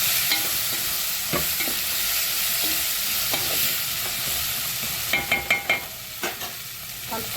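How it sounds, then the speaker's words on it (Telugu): Chopped tomatoes stirred into a frying pan for a bitter gourd curry, a steady sizzle with spoon scrapes and clinks, a cluster of quick stirring knocks near the end, no voices. "కట్ చేసుకున్న టమాటాలు వేసుకున్న తర్వాత ఒకసారి కలుపుకోవాలి"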